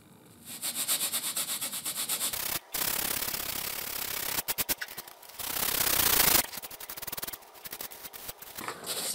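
Foam is carved and scraped by hand for a The Last of Us hunting rifle prop, close-up rasping strokes in quick rhythmic bursts with short pauses between, no talking.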